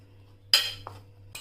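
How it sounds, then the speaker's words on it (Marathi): A spoon clinks sharply against a bowl while cauliflower is mixed with rice flour, black pepper and salt, with two distinct metallic knocks and a softer scrape between them over a low steady hum. "आता हे मिक्स करून घेऊया"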